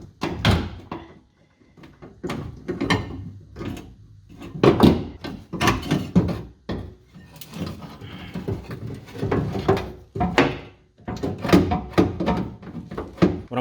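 Window motor on a 1983 Buick Regal G-body being pushed and worked out through the door: repeated close knocks, clunks and scraping thuds in irregular bursts with brief pauses between them.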